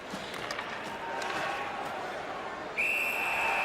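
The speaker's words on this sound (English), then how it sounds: "That puck is held, and the whistle stops play." Referee's whistle stopping play during an NAHL junior ice hockey game between Manchester and Augusta, a long steady shrill blast that cuts in near the end over constant arena crowd noise and a commentator's voice.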